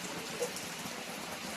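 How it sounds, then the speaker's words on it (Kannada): Steady rain falls in an even, continuous hiss, moderately loud and close, with no other distinct sounds and no speech. "ಮಳೆ ಬರ್ತಾ ಇದೆ, ಮಳೆ ಮಳೆ ಮಳೆ ಮಳೆ."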